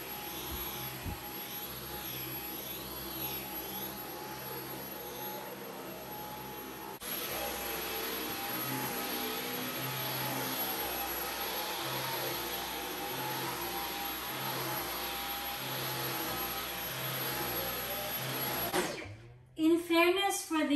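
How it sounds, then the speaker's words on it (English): A Dyson V11 Absolute Extra cordless vacuum cleaner running on medium mode in a bedroom makes a continuous loud whine and motor whir that steps up partway through, then cuts off near the end with a few knocks. "So we are halfway vacuuming the bedroom and look at the dirt."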